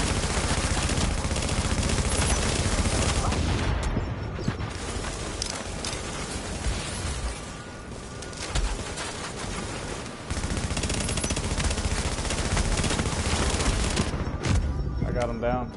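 Nonstop dense gunfire in a shooter video game, rapid machine-gun volleys and blasts filling the whole stretch, loud and close, with voices mixed in.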